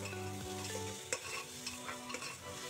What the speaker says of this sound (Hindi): थोड़ा सीम आँच पे ही सबको भूनेंगे थोड़ी देर के लिए